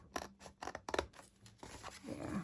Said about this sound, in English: this is why long handled scissors might be better